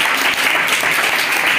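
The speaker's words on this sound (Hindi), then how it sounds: "यस वेरी गुड, जोरदार तालियां पायल के लिए।" A class of students gives a brief, loud round of applause for a classmate named Payal during a Hindi lesson, steady clapping filling the moment without talk.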